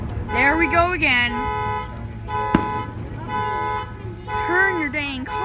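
During a Fourth of July fireworks show in Palm Springs, a parked car's alarm horn blares with steady sustained tones and warbling sweeps. A single sharp firework pop cuts through partway.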